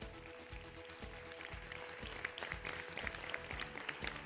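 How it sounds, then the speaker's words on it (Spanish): A crowd applauds steadily at a swimwear and underwear fashion awards event in Gran Canaria, a sustained wash of many hands clapping together at moderate volume, with no voices. "Un aplauso."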